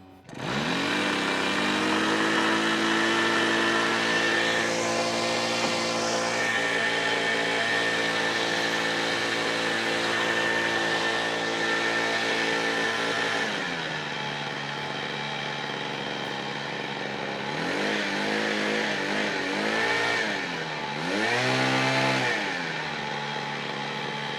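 A nitro RC plane engine buzzes loud and close, a high, steady drone that holds for a long stretch, then drops lower and rises again in a few throttle swells.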